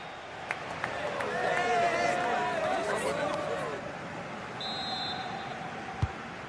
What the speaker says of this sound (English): The whistle sounds and the second half gets going.